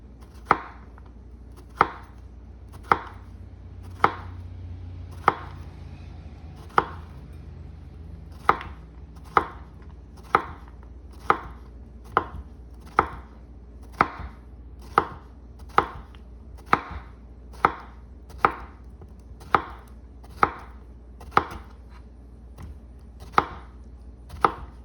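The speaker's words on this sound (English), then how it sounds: "So I'm just gonna chop it up nice and thin" A knife chops zucchini thin on a cutting board, giving a steady series of crisp, close thuds at a regular, unhurried rhythm with no talking.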